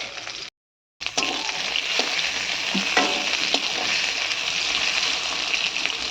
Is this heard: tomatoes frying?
yes